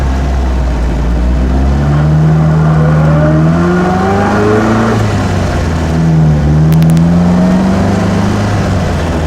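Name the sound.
1953 MG TD sports car driving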